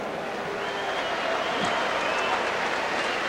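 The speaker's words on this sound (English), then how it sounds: "And a round of applause for Alex Stewart from Tampa," A boxing arena crowd at a Michael Moorer vs Alex Stewart fight applauds as a fighter is introduced, a steady wash of distant clapping and crowd noise with no clear breaks.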